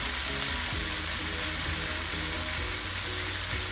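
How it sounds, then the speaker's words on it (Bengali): Fish curry with gravy added to cook a two-foot-long baim fish, a steady loud bubbling sizzle that holds evenly throughout with no voices. "মাছটা সিদ্ধ হওয়ার জন্য ঝুল দিয়ে দিলাম"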